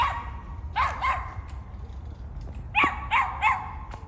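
A dog barks nearby in two short bursts, a few quick sharp barks each, separated by a brief quiet gap.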